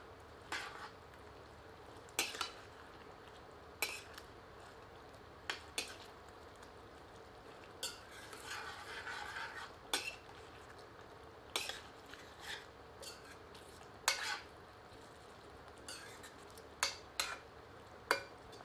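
Chicken pieces are stirred into gravy in a pan for murgh shahi tukda: repeated metallic spoon scrapes and clinks against the pan at an irregular pace over a soft bubbling simmer, close and without talk.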